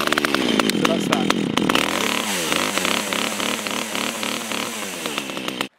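A chainsaw pull-started with the choke out, catching and running loud and close: sputtering bursts at first, then a steady high buzzing idle with revving pulses, cutting off abruptly at the end.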